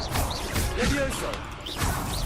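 Levioso levitation spell in Hogwarts Legacy combat: a loud rushing whoosh with crashing impacts amid dense game noise, while a voice speaks over it.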